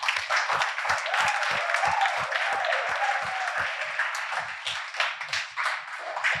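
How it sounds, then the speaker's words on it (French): A small audience at a web development demo day claps together, a moderate burst of applause with distinct individual hand claps audible, slightly distant and thinning toward the end. "Je crois que vous pouvez vous applaudir."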